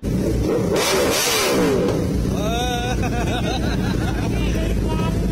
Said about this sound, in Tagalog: This is one of the best sounding big bikes or sports bikes that we have.